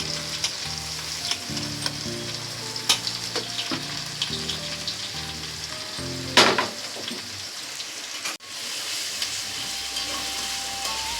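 Tomatoes, onions and green chillies fry in a pan, a constant close sizzle under repeated stirring scrapes and clacks, with one loud burst of hissing and a clunk of the pan near the end.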